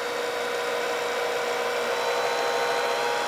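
A Silverson L4R lab homogenizing mixer runs at high speed, its rotor-stator giving a steady, loud, whining whir with no change and no voices.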